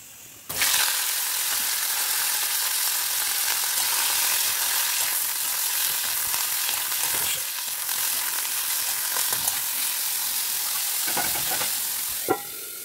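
Bitter gourd frying in a covered pan gives a steady, loud, even sizzle that hisses continuously. A few brief clinks and stirring knocks come near the end.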